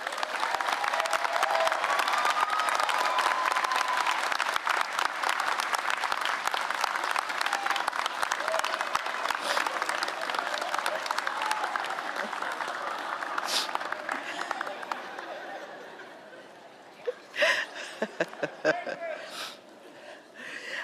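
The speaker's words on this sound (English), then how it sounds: "Graduates, please turn and join me in applauding all our guests" Graduates at a law school commencement ceremony applaud their guests, a dense, sustained wash of clapping from a large crowd that holds steady, then thins out toward the end into scattered individual claps.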